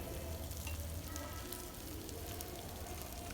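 A garlic and chopped coriander mixture is moved around a hot frying pan, giving a continuous close sizzle with soft stirring rustles running through the short stretch at a quiet level.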